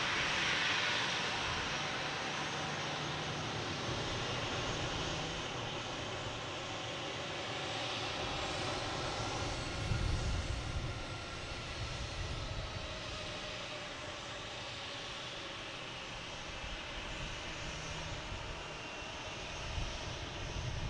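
A Delta Airbus A321neo jet landing at Boston Logan, arriving from San Juan, makes a steady broadband engine roar that holds throughout at a fairly even, moderate level, with a slight swell near the middle.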